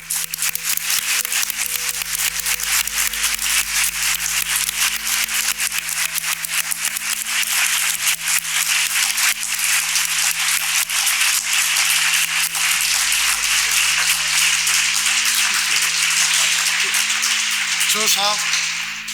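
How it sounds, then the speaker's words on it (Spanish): An audience at a tribute to women militants who fought for democracy applauds steadily and loudly for close to twenty seconds, a dense, unbroken wash of clapping. "Un aplauso grande para Pilar"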